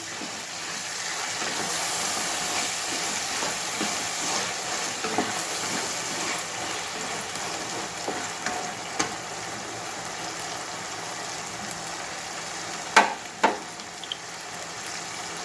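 Tomatoes and a piece of tamarind frying in a pan for gongura curry give a steady, soft sizzle and hiss throughout, with a few sharper clicks and pops near the end.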